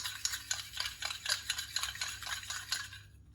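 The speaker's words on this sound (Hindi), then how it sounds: "इसको अच्छी तरह मिक्स करेंगे, जैसे क्रीम होती है ना ऐसे इसकी शक्ल बना लेंगे हम।" Yogurt (dahi) is whisked until creamy, with a steady rhythmic series of about ten close, wet scraping strokes in a bowl, heard alone without talk.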